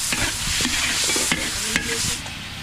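Sautéing with patis fish sauce in a pot for arroz caldo, a loud, continuous hiss of frying with regular spatula scrapes stirring through it, close up and without talk.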